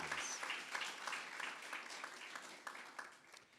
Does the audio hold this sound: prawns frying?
no